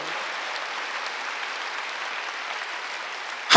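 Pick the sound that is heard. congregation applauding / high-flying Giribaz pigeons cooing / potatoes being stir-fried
congregation applauding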